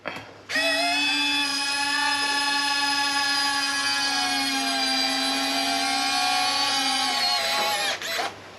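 Retractable landing gear on a radio-controlled F7F Tigercat scale warbird model folds up, a steady high-pitched electric servo whine running for about seven seconds before stopping, close and clear with no talking.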